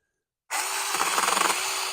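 TOMY ViC six-inch mini electric chainsaw starts abruptly and cuts into green branches, a loud steady buzzing whine with a slight rise and pulsing bite as the chain passes through the wood.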